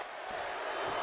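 Wrestling arena crowd in the video game WWE 2K, at a SummerSlam Tribal Combat match between Roman Reigns and Jey Uso, giving a dense, steady roar that holds at full volume for a brief moment.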